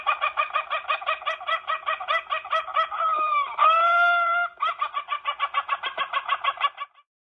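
A chicken sound effect opens with a loud, rhythmic run of clucks, breaks into a drawn-out rooster crow in the middle, then returns to steady clucking before stopping abruptly. It plays alone and close.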